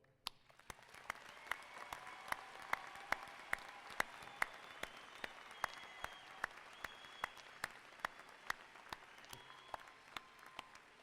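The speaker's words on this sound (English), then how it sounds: "You may applaud." An audience applauds at a commencement ceremony, with scattered, distinct claps rising to sustained clapping in a large room, heard from some distance and fairly faint.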